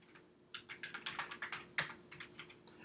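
Fingers tap a computer keyboard in a burst of quick, uneven keystrokes, close and fairly quiet, with one louder clack near the middle and no voices.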